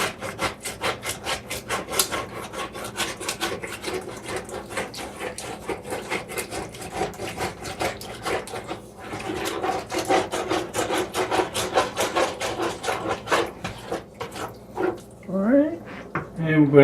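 A utensil scrapes the bottom of a pan of sausage gravy in quick, repeated rasping strokes, close and moderately loud, with a brief pause partway through.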